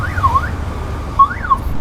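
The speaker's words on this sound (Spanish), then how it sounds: "así también pueden probar la sirena" A car alarm siren sounds during a wiring test with a test lamp while fitting a new alarm, its tone sweeping up and down in two loud wailing cycles, close and alone.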